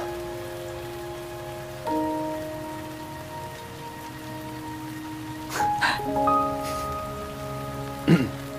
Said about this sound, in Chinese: 哎，下雨了，走，躲雨去